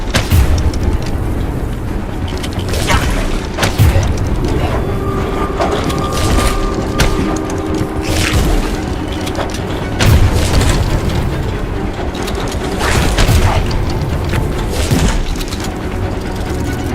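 Repeated booming explosions from a spooky-themed video game, several heavy blasts spread across a dense, continuous stretch of game sound with mechanical clanks and tonal effects between them.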